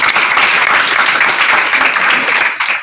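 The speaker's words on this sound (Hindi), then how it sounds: "ताली।" Loud, sustained applause from a large crowd, dense clapping continuing steadily throughout before easing slightly at the end.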